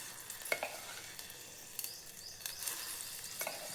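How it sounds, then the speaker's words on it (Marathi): A cooked spinach mixture is stirred into boiling moong dal in a pot: quiet, soft scraping and stirring strokes with a faint sizzle, a few brief louder scrapes spaced over a few seconds. "आपण त्याच्यामध्ये आता शिजलेलं सगळं गरगट टाकून देऊया पालकाचं"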